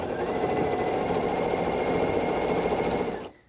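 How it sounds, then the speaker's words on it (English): A sewing machine runs steadily, stitching layer-cake quilt top pieces together with a fast, even mechanical whir that holds close and loud for about three seconds before stopping abruptly. "So I just match it up, and then I start sewing."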